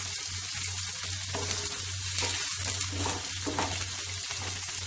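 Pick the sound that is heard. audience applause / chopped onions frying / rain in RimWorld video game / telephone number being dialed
chopped onions frying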